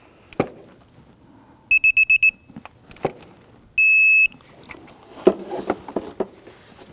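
An electronic torque wrench beeps as the upper tensioner bolts on a 2001-2009 Volvo S60 2.5L five-cylinder are tightened to 14.7 foot-pounds: five quick, close beeps, then one longer steady tone, amid light clanks of tools.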